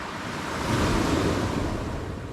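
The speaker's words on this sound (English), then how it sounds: "the waves are obviously always moving the rocks" Sea waves wash over a rocky shore on the Bristol Channel coast at The Knap, Barry, a loud, broad roar that swells in the middle, with wind buffeting the microphone.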